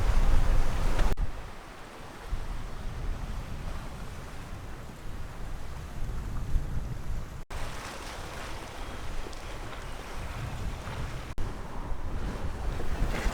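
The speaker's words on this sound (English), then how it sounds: "So it's a really gusty wind." Gusty wind buffets the microphone over steady wave and water rush while sailing a small boat along a coastline, loud and continuous with brief dropouts.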